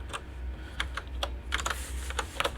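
Fingers typing on a computer keyboard, close and quiet, with irregular bursts of clicking keystrokes separated by short pauses.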